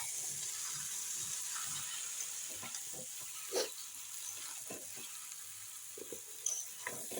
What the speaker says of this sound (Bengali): কাবলি ছোলা দিয়ে এখন নেড়ে নেব আস্তে আস্তে করে